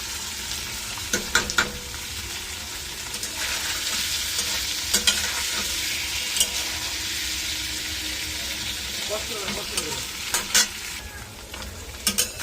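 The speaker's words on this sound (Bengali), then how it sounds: "পনিরটা একটু কড়াইতে ভেজে নেবো হালকা করে" Paneer fries in oil in a wok with a loud, steady sizzle, broken by occasional clanks and scrapes of a spatula on the wok.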